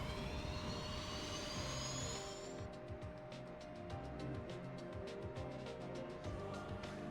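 A plane flies in the video game Sonic Speed Simulator, heard as a steady droning engine roar with a faint rising whine early on, continuous and even across the whole stretch at fairly low level, with no talking.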